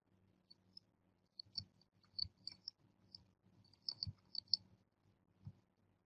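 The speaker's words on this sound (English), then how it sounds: "I'll click on the class" A computer mouse clicks in small, quiet, close-up bursts: a few irregular sharp ticks separated by pauses, with no talking over them.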